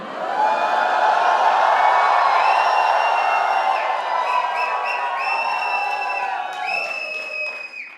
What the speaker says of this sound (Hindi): बहुत चिल्ला रहे हो मत करो